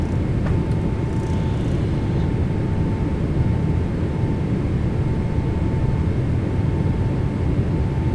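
Airliner jet engines roar steadily through the takeoff climb in Microsoft Flight Simulator 2020, a dense, even, loud rumble with a faint thin tone running through, no voices.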